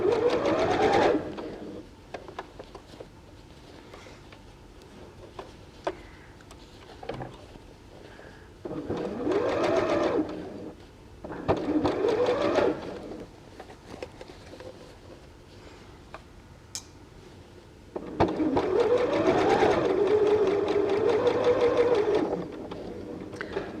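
Sewing machine stitching fabric for a cat-shaped purse and its lining, running close in several bursts of steady rapid whirring separated by short pauses.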